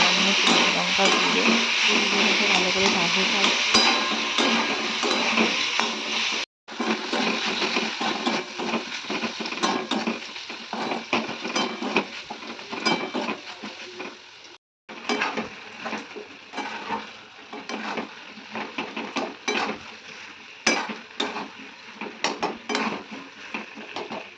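Potatoes and pointed gourd are stirred and fried in a pan. A utensil scrapes and clatters against the metal over a constant sizzle, broken by two brief pauses, with no voice over it.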